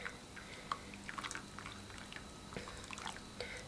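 Liquid dye bath for yarn being stirred, with faint scattered drips and small splashy trickles throughout, quiet and close.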